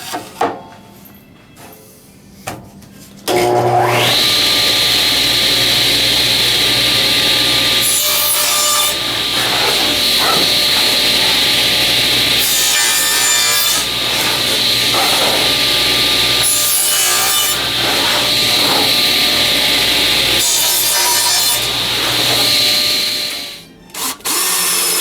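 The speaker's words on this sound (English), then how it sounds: "these corners might be a little nasty. I think I'll nip them off on the saw" A saw bites through wooden corners, starting after a few quiet seconds and then grinding on loudly and continuously, with several short dips as each cut ends and the next begins.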